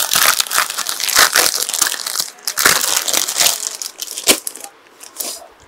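Packaged kids' clothing being unwrapped, with loud, close plastic crinkling and crushing in a dense burst of irregular crackles, easing into sparser rustles toward the end.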